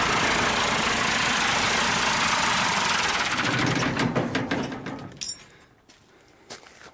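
A 1963 Ford Falcon engine pulls hard in third gear, a loud sustained roar that fades away after about four seconds into quieter road and interior rattles.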